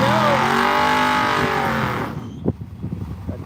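Mopar and Ford drag race cars launch down the lanes in a loud, close engine roar that fades after about two seconds, leaving scattered thumps and crowd noise behind.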